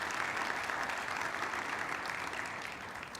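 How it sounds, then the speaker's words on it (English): An audience at a Glendale Convention & Visitors Bureau annual meeting applauds with steady, dense clapping throughout, fairly distant and gradually fading slightly. "we should all provide a nice round of applause to the City of Glendale for their tremendous support"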